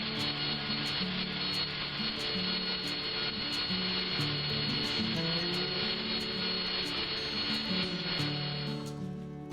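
Sanding a wooden jitterbug frog fishing lure body: a continuous close scratchy rubbing with uneven back-and-forth strokes, steady and moderately quiet, with no talking.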